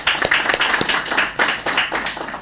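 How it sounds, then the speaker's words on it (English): Brief round of hand clapping from a small audience at a conference side event, close and fairly loud, with distinct individual claps forming an uneven, lively patter. "Please, if you could come and give him a hand of applause."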